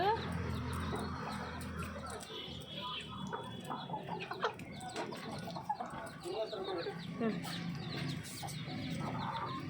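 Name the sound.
chickens clucking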